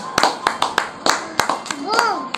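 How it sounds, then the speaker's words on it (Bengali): Hands clap in a loose, uneven rhythm at a family birthday at home, about ten close, sharp claps while someone talks over them and a voice rises at the end. "বাবা হাততালি দাও"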